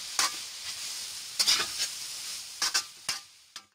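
Lumpia made with papaya fry in very hot oil, a bright crackling sizzle with sharp irregular spatters and pops over a steady hissing bed, close and moderately loud.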